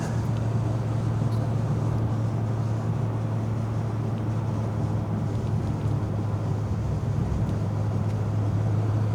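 A Seat 850 Sport Coupé, compact and rear-engined, drives along a road with a constant low engine drone and road and wind rush, steady and unbroken, with no talking.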